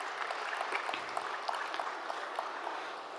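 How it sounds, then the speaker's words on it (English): Audience applause at an interior design fellowship meet in Hyderabad, marking the launch of Inscape: a steady, moderately distant wash of clapping with scattered sharper claps throughout. "Can we have once again have a huge round of applause for the launch of Inscape."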